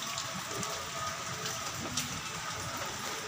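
Steady rain falls on an unfinished market building under construction, a continuous close hiss of drops on concrete and formwork, with no talking.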